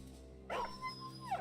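A dog in the video game Battle Brothers gives a single bark-like yelp during combat, sharp at first and trailing into a whine, heard alone over a low steady game background.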